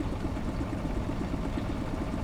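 An old engine, likely on a Claas farm machine, runs at a steady idle with a continuous low throbbing rumble, close and fairly loud, with no voices over it.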